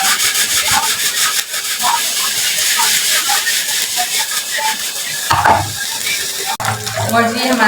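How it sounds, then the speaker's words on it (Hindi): Garlic ginger paste fries loudly in hot oil for a biryani, a dense crackling sizzle broken by wooden scraping stirs and a couple of knocks against the pan. "आप लहसुन अदरक को थोड़ा सा भून लीजिएगा"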